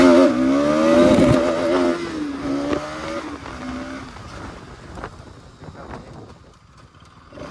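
Motorcycle engine revving hard during wheelie attempts on a festival ride, a loud close roar with shifting pitch that fades into quieter distant road noise.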